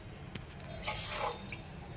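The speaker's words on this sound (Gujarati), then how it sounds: "300 ગ્રામ ખાંડમાં આપણે 500 ગ્રામ પાણી નાખશું." Water is poured into 300 grams of sugar to make syrup for gulab jamun, a short, soft splashing pour lasting under a second in a quiet kitchen.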